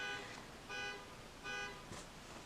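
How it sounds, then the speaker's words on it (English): Car horns honk outside in three separate bursts, each roughly a fifth of a second long, spaced evenly apart and sounding somewhat distant. "Please excuse my neighbors honking outside."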